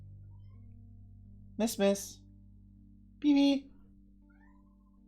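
Two short cat meows from a video game character, the first a quick double call and the second a longer mew, each standing out clearly over a low steady background hum with brief pauses between them.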